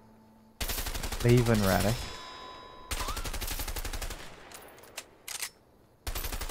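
Bursts of automatic gunfire rattle through a firefight in the A Way Out video game, loud and close, with short gaps between volleys and a brief voice speaking amid the shooting.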